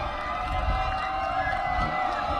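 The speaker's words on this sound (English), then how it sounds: "You can hear the crowd as the teams are exiting the field." Football crowd in a stadium as the teams leave the field at a November 2006 high school game, a steady broad roar of distant cheering and chatter throughout, with no clear single voice standing out.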